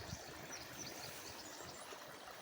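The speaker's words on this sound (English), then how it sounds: "So there is water flowing this way" Water flows steadily through a garden stream toward a pond in a bamboo garden after heavy rain, a soft continuous trickling rush with no voices.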